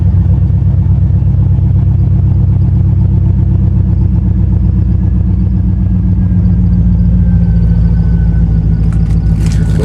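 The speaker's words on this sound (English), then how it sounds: "truck still sounding good" A Chevy Tahoe engine runs loud and close with a deep, steady, throbbing rumble that holds for the whole stretch. A brief rattle comes in near the end.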